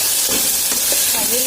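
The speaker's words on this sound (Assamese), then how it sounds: "প্ৰায় 1 মিনিট সময় এনেকৈ এইখিনি ভাজি ল'ম" Ginger, garlic and onion fry in a pan over a medium gas flame for an Assamese chicken dish, giving a steady loud sizzle with occasional stirring scrapes throughout.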